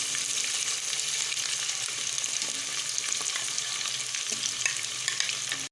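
Beef mince keema deep-roasting in a pan with ginger-garlic paste, a continuous close sizzle and crackle with occasional stirring scrapes, steady throughout and without talk.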